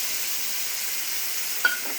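Blender-ground spice paste sizzles steadily in a pan with fried potatoes, cauliflower, ginger, cumin, salt, turmeric and chili for ghugni, an even hiss with a brief clink near the end.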